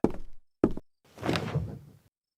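A door being handled: two sharp wooden knocks or thumps in quick succession, then a longer scraping, sliding movement as the door is shifted, close and clear in a quiet room.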